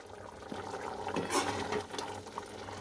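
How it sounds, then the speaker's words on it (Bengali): A pot of thick chana dal with coconut and asafoetida bubbles on the stove, soft gurgling pops and a faint simmer heard up close and quietly. "এবার আমার ডালটা ফুটে গেছে, কেমন ঘন হয়ে গেছে দেখুন"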